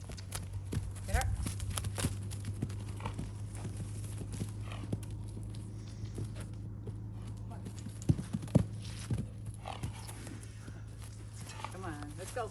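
A four-year-old mare canters, her hooves giving a soft, fairly quiet clip-clop under a steady low hum, with a few sharper hoof strikes near the end.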